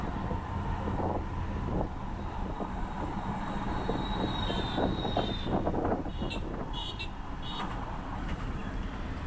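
A train in India bound for Agra, a continuous rumble of rolling wheels and carriages with brief high metallic squeals partway through, fairly close and steady.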